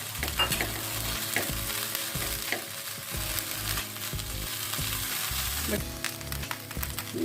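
Boiled chicken stirred in a cooking pan over a constant frying sizzle, with repeated spoon scrapes and knocks against the pan at a steady rhythm, close and fairly loud.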